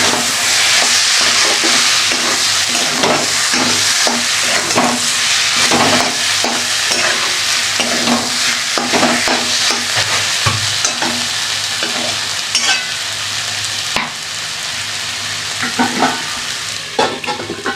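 Vegetable curry with taro stems sizzles loudly in a pan while being stirred, with steady frying hiss and repeated scraping strokes throughout.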